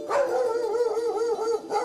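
A village dog barks and yips in a close, loud, continuous run of strained, howling yelps lasting a couple of seconds.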